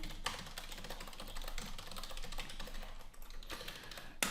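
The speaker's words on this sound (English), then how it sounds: "I'm just going to type in my name" Fast, steady clatter of keys on a computer keyboard as a name is typed, close and fairly quiet over a faint background hum.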